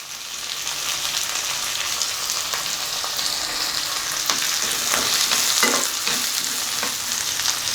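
Ginger and garlic sautéing in a pan for mutton masala, with a bright, steady frying sizzle heard up close and a few sharp scrapes and clinks of a stirring spoon near the end.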